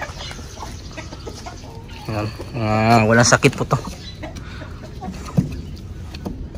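Rhode Island and Decal Brown breeder chickens cluck near the microphone, with one loud drawn-out call in the middle and scattered softer clucks around it, while a person talks nearby.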